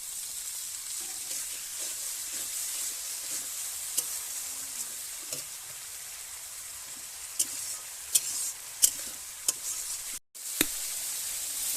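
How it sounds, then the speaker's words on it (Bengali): Masala cooks down in a pan with a little water, a soft steady sizzle with occasional sharp knocks of a spoon against the pan, faint and even throughout. "সামান্য একটু জল দিয়ে কষিয়ে নেবে"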